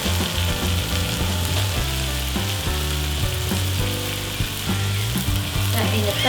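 Mushrooms frying in melted butter in a pan, with a loud continuous sizzle and crackle up close; a steady tonal hum and faint background music run underneath.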